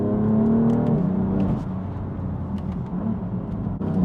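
A loud, close BMW M4 Competition Pack engine revs and roars, its pitch rising and falling as it accelerates, with no talking.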